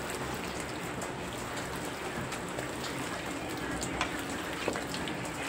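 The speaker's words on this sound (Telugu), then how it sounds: "మాకైతే విజయవాడలో చాలా వర్షం పడుతుందండి." Heavy rain falls in Vijayawada, a continuous broadband hiss with scattered drop hits, steady and moderately loud throughout, with a couple of sharper taps near the end.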